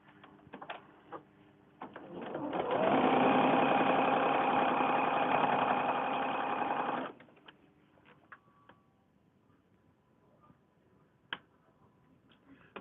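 A sewing machine stitches quilt blocks in one steady run of about five seconds, a close, even whir that starts and stops cleanly, framed by quiet handling clicks and no talking.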